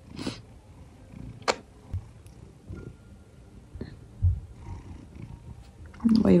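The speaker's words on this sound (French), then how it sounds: "Ouais, il ronronne." Cat purring close to the microphone, a soft low continuous rumble interrupted by occasional handling bumps and rustles.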